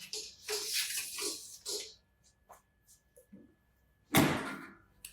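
Combi oven door in a commercial kitchen swung open after preheating, a loud whooshing release near the end following softer handling noises and some rustling, close by, with a voice briefly audible early on.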